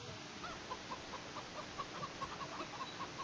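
Farm chickens clucking softly, a string of short, quiet clucks at an uneven rhythm over steady background noise.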